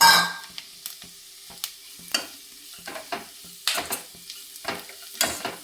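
Dried coconut heating and being stirred in a pan on medium flame gives a faint sizzle with scattered scraping stirs and light clinks of a spoon against the pan at irregular intervals.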